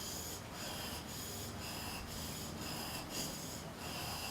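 A bench chisel rubbed back and forth on a sharpening stone, a steady gritty rasping scrape with brief regular pauses about every half second at each stroke reversal, close and faint.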